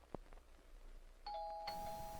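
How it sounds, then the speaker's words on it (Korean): A home doorbell rings in a quiet room, a bright two-tone chime that starts faintly and then sounds louder and clearer over low background hum. "초인종이 울리고 기뻐서 나갔지만"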